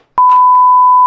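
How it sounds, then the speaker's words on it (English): An answering machine sounds its beep, a single loud, pure electronic tone that starts abruptly after a brief click and holds steady for about a second. "Beep."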